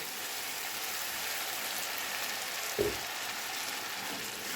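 Onion and tomato paste hit a pan of boneless chicken for a makhni handi gravy, giving a steady, even sizzle with one soft thump partway through and no talking.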